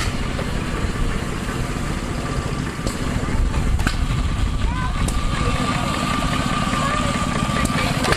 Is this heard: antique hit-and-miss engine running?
yes